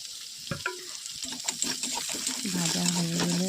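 Prawn heads sizzle in a pan with oil, green chillies, raw garlic and black cumin, giving a crackling fry with clattering stirs, and a voice speaks over it.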